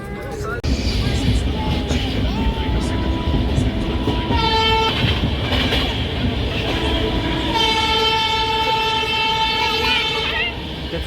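An Indian Railways train rolls past close by with a loud continuous rumble and clatter of wheels, broken by several horn toots, while people talk over the noise.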